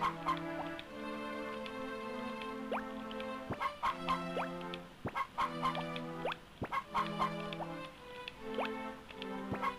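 Chickens cluck in the farming game Harvest Moon: Friends of Mineral Town as a run of short, bright, repeated calls over a soft dripping, game-style backing tune.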